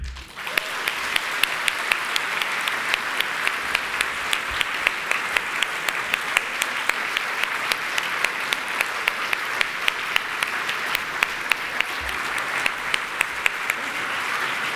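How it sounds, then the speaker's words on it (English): A large audience gives sustained, even applause after a speech by the British Prime Minister, steady clapping from many hands with a few sharper claps standing out, continuing without pause. "I'll let them carry on applauding you, if that's okay, for a few minutes."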